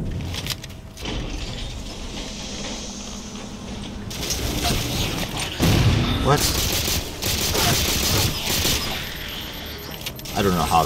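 In the Halo 4 video game, a frag grenade goes off and plasma weapons fire in busy, loud bursts of shots and blasts, with a voice talking over the game audio.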